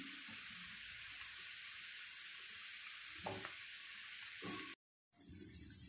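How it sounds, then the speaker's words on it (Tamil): A coconut poli flatbread cooking on a pan, giving a steady, close sizzle throughout with a few soft scraping touches and one short dropout near the end. "ஒரு 2 நிமிஷம் சிம்மில் இருக்கு, நம்ம திருப்பி போட்டுக்கலாம்."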